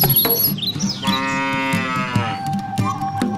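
A cow in a children's animated tale lets out one long, close, drawn-out moo in the middle, framed by lighter background sounds before and after.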